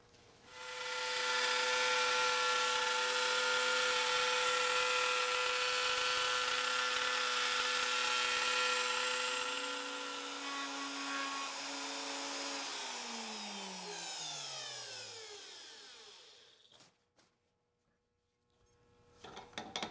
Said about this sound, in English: Setting the depth of the router is simple when using a plunge base